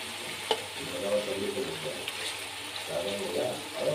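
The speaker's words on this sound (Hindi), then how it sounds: "अब पानी डाल दूंगी।" Water is poured into a cooking pot of paneer, potatoes and peas, giving a soft sizzling, splashing and bubbling that rises and falls at close range, with faint kitchen clatter.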